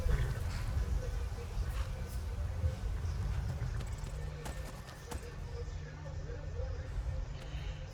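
A horse's hooves clip-clop in the PC video game KaNack, heard as a light, irregular series of knocks beneath a person talking over the gameplay.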